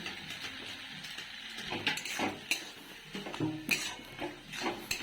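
Crab and capsicum stir-fried in a pan, with repeated scraping and clanking of a spatula against the metal over a low sizzle, close and irregular with no talking.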